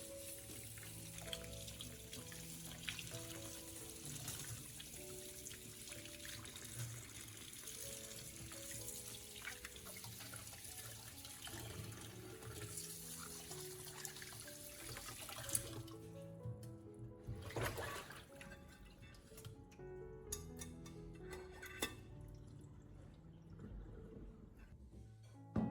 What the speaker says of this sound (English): Rinse them well under running water and let them drain completely.